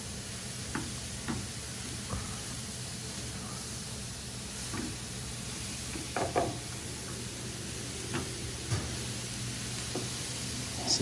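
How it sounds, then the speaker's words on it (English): Cauliflower rice fries steadily in a pan over a medium-low flame, giving a soft, continuous sizzle broken by scattered light scraping and ticking as it is stirred, with no talking. "Keep mixing everything together."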